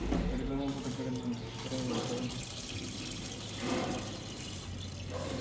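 Water poured into the drip pan of a smoker while pork ribs are being prepared, a steady splashing trickle running for several seconds beneath intermittent talk.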